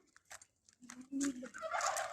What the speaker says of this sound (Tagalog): Ayun ang manok. Doon ang manok.